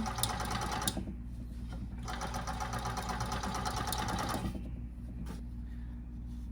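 A blind hemmer machine sews a drapery bottom hem, its steady low mechanical hum and rapid rhythmic stitching clatter running continuously and close, with a few sharp clicks.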